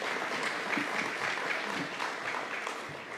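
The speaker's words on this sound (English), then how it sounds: "that calls for a deserved applause" An audience at a mayoral civic event in Chicago gives steady applause, a dense even clatter of clapping that fills the room for a few seconds.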